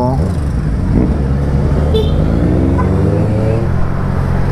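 A 2023 Honda CB650R motorcycle on a test ride, its engine droning loudly and close, with the pitch rising and falling as it revs, set against road and wind noise.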